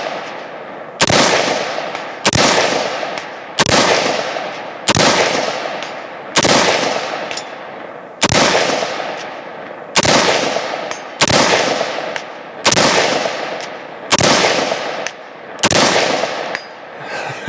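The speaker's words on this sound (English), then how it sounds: "So there you go, a bunch of shots for you guys." Eleven sharp gunshots from a KAC SR-15 MOD2 rifle ring out alone at a steady, unhurried pace, each loud crack followed by a decaying echo.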